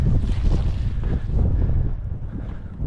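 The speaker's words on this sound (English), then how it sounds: "It is insanely windy right now, so hopefully you guys can hear my narrating." Strong wind buffets the microphone outdoors near a tunnel at an old train derailment site, a loud roaring rumble with gusty surges that eases slightly toward the end.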